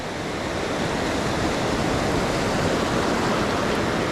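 Ocean waves breaking on a beach at Carlsbad during surf fishing, a steady loud wash of surf with no pauses and no voices.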